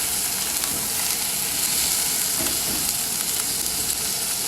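Brussels sprouts and chicken sizzling in a hot pan for a ginger and garlic stir fry, a loud, constant crackling hiss with faint scrapes of stirring running throughout, no voices.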